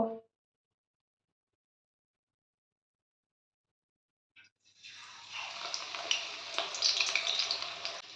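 Coriander leaf pakoras coated in gram flour batter drop into hot oil, a brief plop followed by a steady, bright crackling sizzle that builds and continues close up, with no talk.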